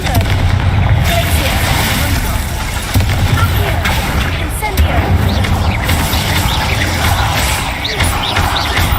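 Confringo blasting spell exploding inside an insect-infested tomb in Hogwarts Legacy, with repeated booming bursts and crackling debris over several seconds, loud and close, mixed with ambient game sound.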